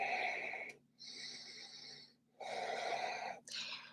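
Slow, deep breaths during yoga practice, three long airy exhalations separated by short quiet gaps, close and soft with a slightly hoarse, wheezy quality.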